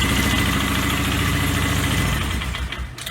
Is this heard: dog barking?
no